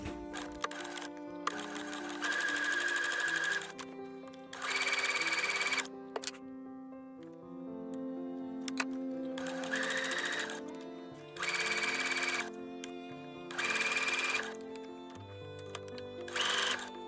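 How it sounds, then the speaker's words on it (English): A sewing machine stitches a fabric seam with right sides together for a dress, running in several sustained bursts with short pauses between, close and clear, with no talking. "I will be sewing right sides together, and then this seam will be hidden in a pocket"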